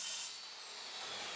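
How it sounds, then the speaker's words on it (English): Sandpaper rubs steadily across the inside of a wooden display case, a close, continuous scratchy hiss with no pauses and no voices. "Sanding the inside will be impossible after the glue up, so do it now."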